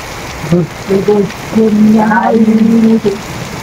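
Steady rain hisses in the background while a voice speaks loudly and close.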